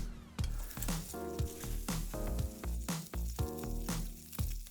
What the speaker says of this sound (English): it's time to get those hearts sizzling